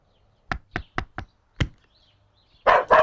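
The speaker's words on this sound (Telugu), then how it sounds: "ఎవరు తలుపు కొడుతున్నట్టున్నారండి?" Knuckles knocking on a door, five sharp separate raps in quick succession with a short pause before the last, followed by a brief muffled voice.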